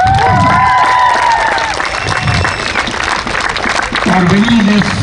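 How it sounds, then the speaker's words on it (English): At a cricket final's award ceremony, a crowd applauds the winning team with loud, continuous clapping mixed with cheers and shouting children, while voices carry over the top. "a big round of applause to Kini RR"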